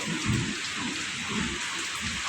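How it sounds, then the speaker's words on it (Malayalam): Dense, steady hiss of heavy rain pouring down, loud and continuous with no voices, a constant wash of falling water throughout. "മഴ തകർത്ത് പെയ്യുക"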